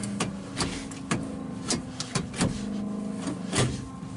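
An electric cooling fan runs steadily on a 1959 Ford Galaxie Fairlane 500, a constant whir with a low hum under repeated sharp clicks and knocks spaced about half a second apart.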